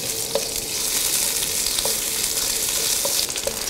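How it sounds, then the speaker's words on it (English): Ginger stir-fried in a wok for Dong Po pork, a steady bright sizzle and hiss of hot oil with a few faint scraping stirs of the spatula, close and continuous without talk. "And you stir fry the ginger until you can smell the aroma."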